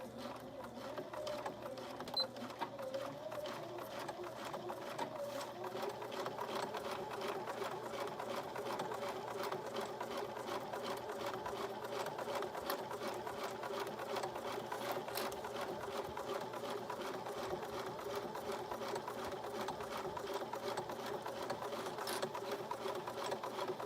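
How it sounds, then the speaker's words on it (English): A domestic sewing machine back stitching a neck pillow, running in a fast steady mechanical chatter at close range, continuous and even throughout with no talk. "I am going to back stitch at the beginning and the end here"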